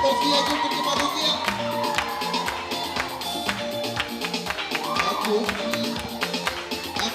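Congregation clapping along at a live Christmas church service broadcast on radio, a dense, steady patter of hand claps mixed with crowd noise, music and voices.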